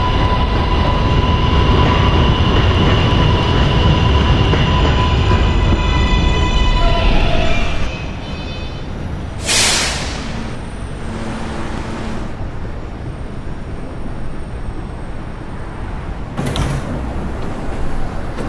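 An R143 subway car on the R train pulls into a New York station with a loud, steady roar that drops off, followed by hissing brake releases and a lighter rumble at standstill.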